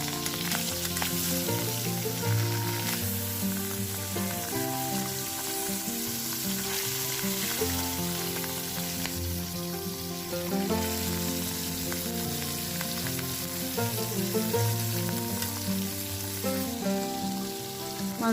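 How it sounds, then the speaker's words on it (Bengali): Fresh river fish (baca) frying in hot oil in a karai wok: a steady, dense crackling sizzle that continues throughout, with background music layered over it. "এখন কড়াইতে মাছগুলো দিয়ে দিব।"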